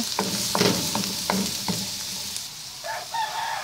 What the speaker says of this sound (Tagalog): Lutuin po muna natin yung ating bawang.